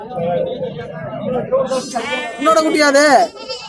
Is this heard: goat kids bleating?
yes